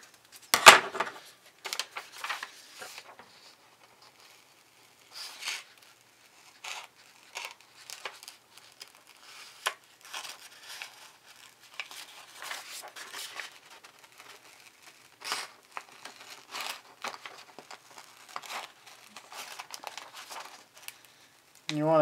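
Scissors cutting out a paper template shaped like a MacBook Pro trackpad: close, quiet, intermittent snips and paper rustles in irregular bursts, with no speech.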